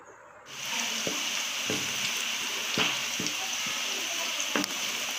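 Onions browning in oil in a frying pan for a desi murgh karahi, a steady close sizzle with a few sharp clicks of a spoon stirring, no talking.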